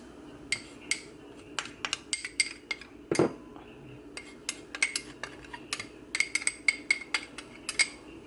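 A metal spoon scoops onion powder from a jar, making a quick series of light, close clinks and taps with one heavier knock, with no talking.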